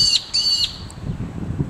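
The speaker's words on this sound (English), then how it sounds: "The other birds are panicking at the moment because they are freaked the hell out." Birds panicking as an Australian goshawk takes down a magpie, heard as two loud, shrill, high calls in quick succession, then a faint chirp, with low rumbling background noise afterward.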